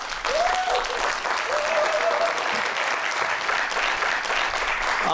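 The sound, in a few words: audience applause welcoming a guest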